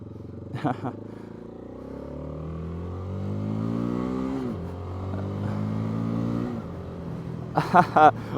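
A Cfmoto CLC 250 motorcycle pulls away in first gear: its small engine note climbs in pitch, dips briefly, then climbs again, with a few sharp clicks at the start and end.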